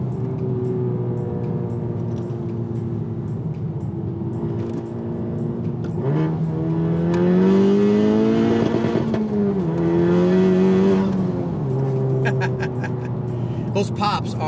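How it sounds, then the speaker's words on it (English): A modified Honda Civic Type R FK8 with a downpipe and Remus turbo-back exhaust revs up and down in several rising and falling sweeps, loud and close, with crackles and pops on the overrun. "Those pops are incredible, and that's definitely due to the downpipe and the Remus exhaust."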